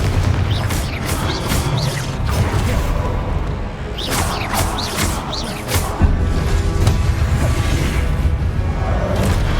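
Confringo blasting spells go off in Hogwarts Legacy combat as a string of booming, crashing explosions with whooshes, several loud hits spread across the stretch amid busy game noise.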